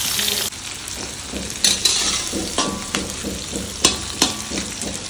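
Onions frying in rendered mutton fat in a pan at home, a loud continuous sizzle broken by regular scraping stirs and occasional clinks of the spatula, close up and alone.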